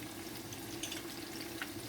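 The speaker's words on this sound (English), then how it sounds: "the fritters are frying." Salt fish fritters made with curry powder frying in hot oil, a soft continuous sizzle and bubbling heard close up, with no talking.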